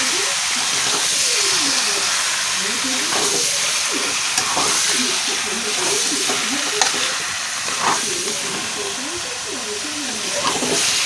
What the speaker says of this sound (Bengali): তো এখন আমি মাংসটা দিয়ে দেবো। দিয়ে এখন আমি সুন্দর করে কষিয়ে নেব।